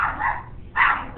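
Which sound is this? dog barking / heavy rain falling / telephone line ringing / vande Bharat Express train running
dog barking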